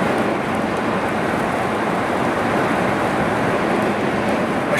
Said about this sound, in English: More like just rain now.